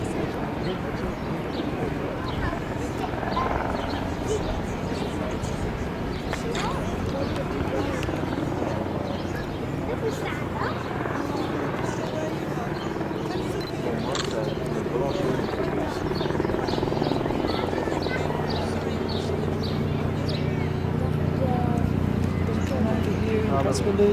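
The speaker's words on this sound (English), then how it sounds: "Bloody helicopter hanging over there." A helicopter hovers over a palace waterfront, a steady low droning rumble running beneath near and continuous talk, with outdoor crowd and street noise around it.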